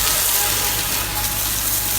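A pressure-washer spray rinses cleaner and loosened dirt off a vehicle, a steady close hiss of water with a faint machine hum underneath, unbroken for the whole moment.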